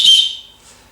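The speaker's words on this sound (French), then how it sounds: "Vous disposez du sifflet" One short, shrill blast from a small survival whistle built into the clasp of a paracord bracelet, loud and close, then quickly fading to quiet.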